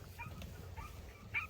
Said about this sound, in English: if you can hear Milo barking